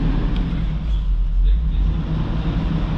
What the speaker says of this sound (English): Motor's running great.